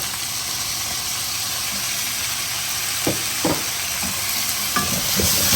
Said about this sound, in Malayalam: എല്ലാം നന്നായിട്ടൊന്ന് വഴറ്റുക.